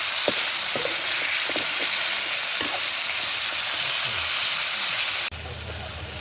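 Drumstick curry being stirred and fried in a pan: a steady loud sizzle with repeated spoon knocks and scrapes, then a sudden drop to a quieter muffled hiss near the end.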